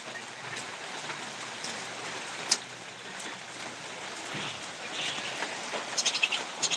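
Steady rain falls outdoors on a rainy day in Bogura, Bangladesh, a dense even patter close by with scattered sharper drips and a few louder taps near the end.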